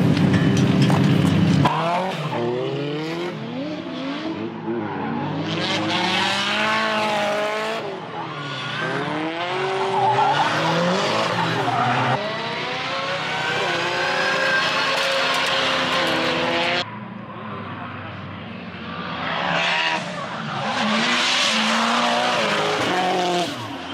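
A D1 Lights drift car at full throttle in 2022 competition, engine screaming and tires squealing as it slides for the full length, loud and close with rising and falling revs and no talk over it.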